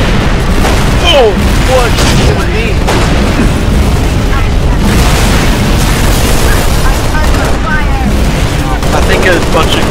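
Grenade explosions in the Halo: Reach campaign boom in a dense, loud barrage mixed with gunfire and battle noise, while players talk over the din.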